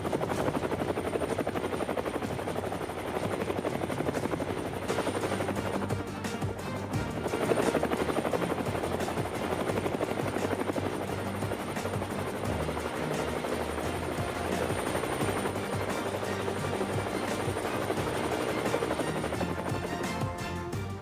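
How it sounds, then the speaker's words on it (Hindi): An Indian Air Force indigenous Light Combat Helicopter runs close by, its rotor chopping in a loud, steady, rapid beat for about twenty seconds with a whining engine tone and no voices. "इंडियन एयरफोर्स में देश के प्रथम इंडिजिनस लाइट कॉम्बैट हेलीकॉप्टर का इंडक्शन हो रहा है।"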